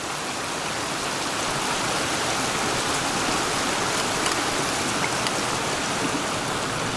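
Water rushes steadily in a stream in the Scottish Cairngorms, a continuous close broadband wash with no distinct splashes standing out.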